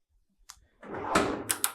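A commercial gas-fired three-door steel steam cabinet for seafood has its door worked open and shut: soft latch clicks, then a sliding metallic scrape and a couple of sharp clanks, fairly close and quiet.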